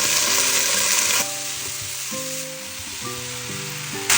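Onion, garlic and dried fruit sauce stir-frying in a pan, a loud, dense sizzle at first that eases to a softer hiss beneath background music.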